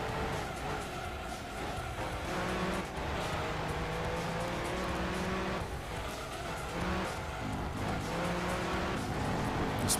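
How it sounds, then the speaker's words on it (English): A TVR Speed 12 in Gran Turismo 2 roars continuously at high revs, its engine pitch climbing and dropping with gear changes, loud and close with no voices. "Oh, the sounds this car makes are just awesome."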